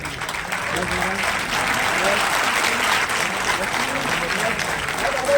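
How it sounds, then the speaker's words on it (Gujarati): Audience at a function applauding steadily, a dense, even wash of many hands clapping that holds at a constant level from start to finish. "ખૂબ તાળીઓ થઈ જાય આ લાગણીને, ભાવને"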